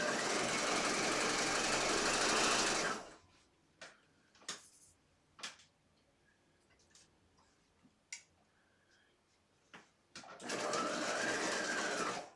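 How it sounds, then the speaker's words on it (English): A sewing machine stitching a zipper seam with a long basting stitch, running steadily and loud for about three seconds, pausing with a few light ticks and clicks, then whirring again near the end. "We're going to start by stitching with a larger stitch"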